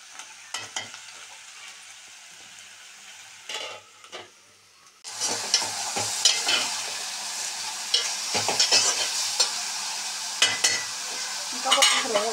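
Curry frying in a pan and stirred with a spoon, quiet clinks and scrapes at first, then a louder sizzle with irregular stirring strokes, close by and without speech.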